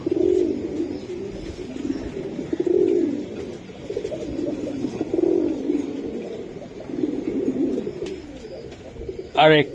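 Pigeons at a seller's loft in a quality pigeon collection, including Budapest, Pakistani and Madrasi breeds, coo steadily in rolling low calls throughout, close and moderately loud, with a brief sharper call at the very end.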